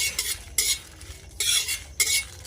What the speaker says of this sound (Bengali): ভাজা মশলা দেওয়ার জন্য দুটো তেজপাতাও ভেজে নেবো ওর সঙ্গে